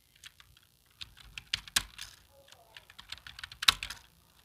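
Keys clatter on a hard computer keyboard in uneven bursts of quick clicks with short pauses, close and fairly quiet, during typing practice for a data-entry test. No one speaks.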